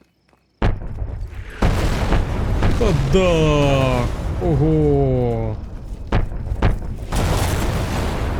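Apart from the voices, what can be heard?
artillery strike explosions in video game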